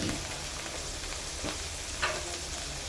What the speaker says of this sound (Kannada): ಒಂದು 2 ನಿಮಿಷ ಬಿಟ್ಟು ಕರಿಬೇವು ಹಾಕ್ಕೋಬೇಕು. ಚೆನ್ನಾಗಿ ಫ್ರೈ ಹಾಕಿ